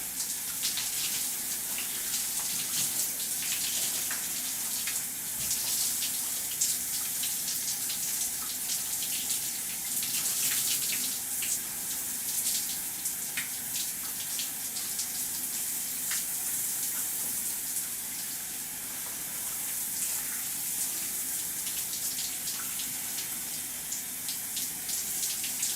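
Water runs steadily from a tap as something is washed off, a constant hissing gush at moderate level for the whole stretch with no talk.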